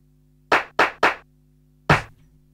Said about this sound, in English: I'll try and sample the clap.